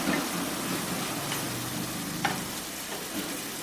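Potatoes sauté with spice paste in a pan, giving a dense, even sizzle with occasional soft stirring clicks. The sound is close, steady and unbroken, with no talking.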